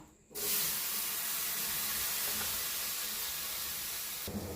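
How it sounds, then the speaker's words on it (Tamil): Tomatoes sautéing in a pan for horse gram chutney give off a loud, steady sizzling hiss that starts abruptly and holds unbroken close to the mic, with no talk over it. "அடுத்து தக்காளி வதக்கிக்கிறோம்."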